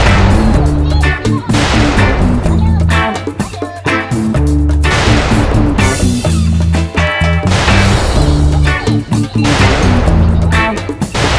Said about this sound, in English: Hey, Cody, what's all these explosions?